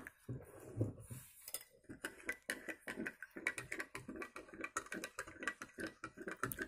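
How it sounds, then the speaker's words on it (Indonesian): Stirring a liquid mixture in a container while preparing a flour dough, heard as a quick run of light, rhythmic clinks and taps of utensil against the vessel, fairly close and quiet, with no talking over it. "Kita aduk-aduk ya"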